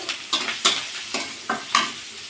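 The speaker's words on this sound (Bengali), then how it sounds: "আমগুলো দিয়ে একটু নেড়ে ফেলে" Mango pieces and fish are stirred in a hot pan, giving a series of spatula scrapes roughly every third of a second over a steady sizzle. The sounds are close and fairly quiet, and no one talks.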